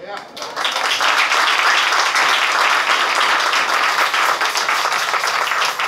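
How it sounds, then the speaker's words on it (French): Sustained applause from a church congregation after a sermon, dense and loud clapping filling the whole stretch after a brief quieter start. "Continuez à applaudir Seigneur, continuez à applaudir le pasteur."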